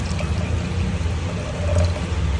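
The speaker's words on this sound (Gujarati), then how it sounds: "આની ઉપર હવે આપણે નાખશું પાણી" Water is poured over loose sweet corn kernels in a pressure cooker, making a steady, close splashing rush that lasts the whole moment without any talk.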